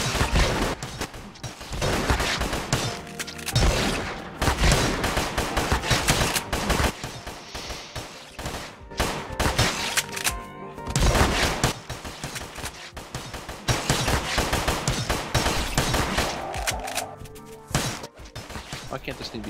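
Gunshots from a video game gun, fired one click at a time in rapid loud bursts that fill the whole stretch, with a voice talking over the shooting.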